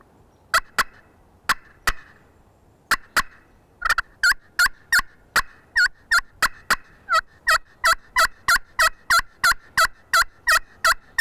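A wild turkey gobbler in Mississippi calling in a long run of sharp, evenly spaced bursts that quicken and grow denser toward the end, loud and clear against quiet surroundings.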